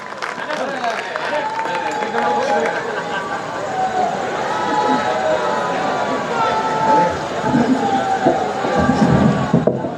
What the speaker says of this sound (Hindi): तो आप ऐसे कवि को अपनी जोरदार तालियों के साथ स्वागत करें भाई दिनेश देशी घी